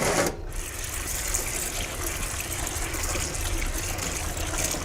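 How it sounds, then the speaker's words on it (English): Cooked potatoes rinsed under running water in a strainer, a steady close splashing and trickling stream that stays even throughout, with no talking. "I'm going to just slightly rinse them."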